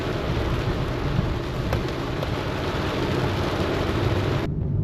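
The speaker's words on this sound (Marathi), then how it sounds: "किती जोरात वीज पडतीये बघा." Heavy rain drums steadily on a car during a long highway drive in a thunderstorm, a dense broadband roar with low rumbling beneath and a faint crackle near the middle; the upper hiss cuts out abruptly near the end.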